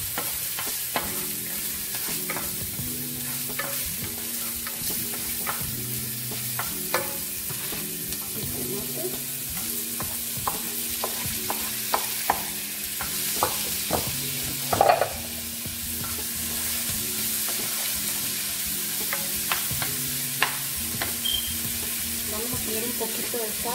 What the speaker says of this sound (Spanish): Es muy diferente cuando dejas freír la cebolla primero a que lo pongas todo al mismo tiempo.